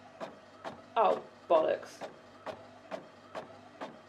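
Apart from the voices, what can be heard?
printer running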